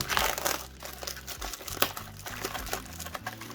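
A Yu-Gi-Oh! Genesis Impact booster pack is torn open by hand, its foil giving close, continuous crinkling and crunching with a few sharper rips.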